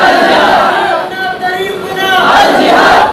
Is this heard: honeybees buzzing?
no